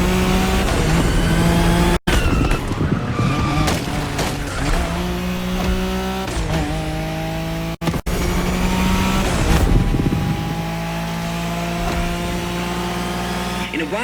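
A Nissan Skyline racing in the video game The Crew Motorfest, its engine droning steadily with rising and falling revs and brief gear-shift dips, loud and close throughout.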